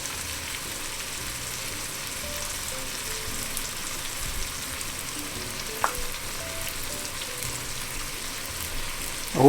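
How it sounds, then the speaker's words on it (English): Jamaican stuffed dumplings fry in a pan with a steady, close sizzle and crackle of hot oil, continuous and even, with a few faint clinks near the end. "So meanwhile that's frying off"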